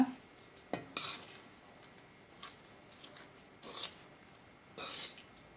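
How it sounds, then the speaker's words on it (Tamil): A spoon stirs cooked rice with drumstick leaf powder in a pan, soft scraping under a few sharper clinks of metal on the pan, close and quiet. "சாதம் போட்டதுக்கப்புறம் நல்லா கிளறி விட்டுக்கோங்க"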